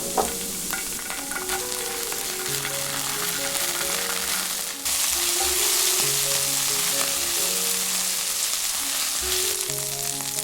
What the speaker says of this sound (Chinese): 再加入1小勺郫县豆瓣，炒出红油。